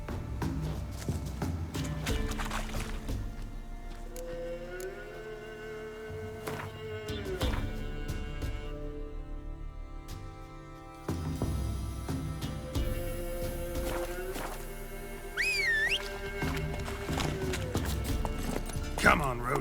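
Roach, the horse in The Witcher 3, clip-clops in a steady hoofbeat rhythm with game music and character dialogue layered on top.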